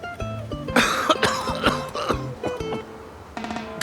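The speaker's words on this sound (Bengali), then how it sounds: "একটু কাশি হয়েছে" A person coughs several times in a row at close range, in uneven harsh bursts with short gaps between them and no speech.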